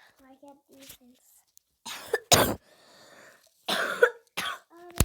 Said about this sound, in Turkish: ben çok öksürüyorum